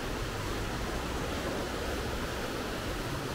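Turbulent, fast-flowing river below a red bridge near Kutaisi, Georgia, a continuous dense rushing roar with no breaks, loud and even throughout.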